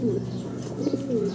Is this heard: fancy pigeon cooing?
yes